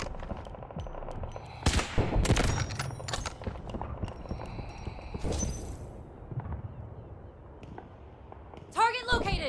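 Heavy impacts from an artillery barrage in the shooter game Delta Force thud and crack in scattered bursts, some close and loud, with talk and game voice lines around them.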